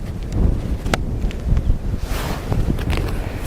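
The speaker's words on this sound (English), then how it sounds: "I doubt it the way the wind's blowing" Strong wind blowing outdoors in Oklahoma, a steady gusting roar buffeting the microphone with low rumble and occasional rustling surges, no one talking.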